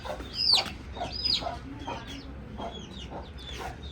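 A hen clucks in a series of short, sharp calls, fairly close and clear, with a faint background murmur behind.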